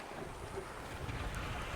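Wind rushes steadily against the microphone on Lake Mead, a broad, rumbling buffet with water sloshing beneath it and no voices.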